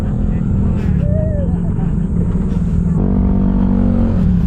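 A vehicle rolls along a rough road in slow traffic near a riverside in Tarlac, with a steady low engine rumble throughout and a brief whine partway through.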